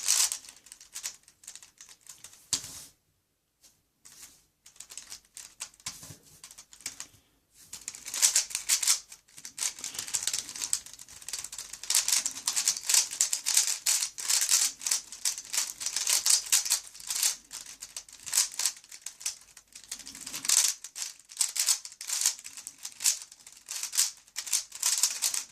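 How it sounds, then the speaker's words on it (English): A Moyu Weilong V2 speed cube rattles and clacks through a fast solve, with dense, rapid bursts of plastic turning clicks broken by a few brief pauses, close and alone. "that is very rattly sounding cube"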